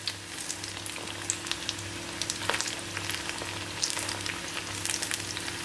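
Leftover rice snack frying in smoking-hot oil, a continuous soft, even sizzle with scattered tiny pops, fairly quiet and steady throughout, with no talking.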